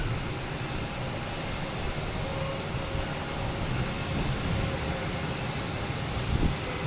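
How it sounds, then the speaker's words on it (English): An American Airlines Boeing 777 takes off from runway 22 right at Boston Logan Airport, bound for Heathrow, with a steady, broad jet roar that holds loud throughout. "we have the American heading to Heathrow, Boeing 777, flight 108, taking off on 22 right"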